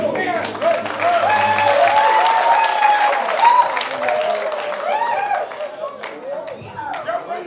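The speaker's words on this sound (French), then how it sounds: "je voudrais vous demander de les applaudir encore" Sustained applause and cheering from a crowd at a live rap performance, steady and dense throughout with voices shouting over the clapping.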